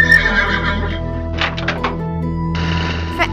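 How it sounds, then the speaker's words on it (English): A LEGO Mecha Horse, a robotic horse that converts from a turbo bike, gives a loud neigh and whinny over a steady mechanical hum, with a few thunks and clip-clop hits mid-way. "the Mecha Horse that can convert from a turbo bike to a robotic horse"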